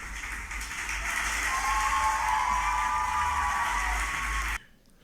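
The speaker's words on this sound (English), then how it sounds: "This is the sound of the applause that greeted you before you gave a guest lecture at Yale on September 15th" Recorded applause from a crowd at a Yale guest lecture, steady clapping filling about four and a half seconds before cutting off abruptly into near silence.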